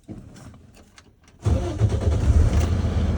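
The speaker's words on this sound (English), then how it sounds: "I'm going to turn on my truck." Truck engine starting after a quiet pause with light clicks, then cranking and catching into a loud, steady running rumble nearby.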